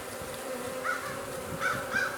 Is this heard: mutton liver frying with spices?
no